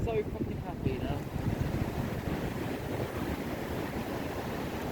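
Wind blows steadily across the open water of Werrington Lakes, a constant rushing roar with heavy microphone buffeting, loud and close, and a brief voice early on.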